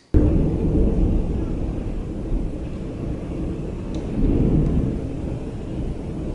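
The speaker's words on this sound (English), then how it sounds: "That is thunder." Thunder rolls through a storm outdoors, a loud, deep, sustained rumble that swells again near the end, with no one speaking over it.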